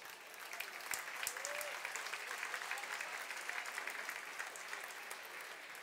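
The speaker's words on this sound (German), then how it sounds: "Nochmal einen Applaus bitte." Audience applause at a restaurant awards night, the Nacht der Gastronomie gala, sounds as dense, continuous clapping from a crowd, steady and moderately distant for the whole stretch without talk.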